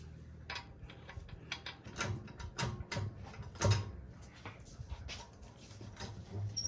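Socket wrench with a 17 mm socket ratcheting on the lug nuts of a 2013 Volkswagen Beetle, a quiet run of irregular clicks and mechanical ticks close by.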